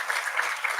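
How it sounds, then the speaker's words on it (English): A brief burst of audience applause greets a speaker arriving at a yoga talk, moderately loud steady clapping from a seated crowd. "a loud round of applause from all of you to him"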